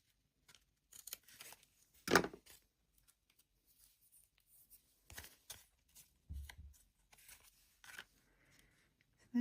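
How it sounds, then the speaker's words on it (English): Scissors snip the end off a handmade white and gold anniversary card: one sharp, close cut stands out among quieter paper rustles and handling taps, with no voices. "Let's snip this end a bit off because it's too close."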